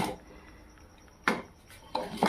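Beans, aubergine and potato in boiling water are stirred in a pot, two brief scraping knocks of a utensil against the pot over a quiet background, with no speech.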